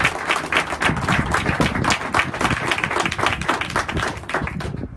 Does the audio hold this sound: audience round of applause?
yes